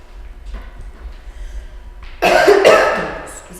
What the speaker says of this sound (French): Excusez ma toux, c'est désagréable.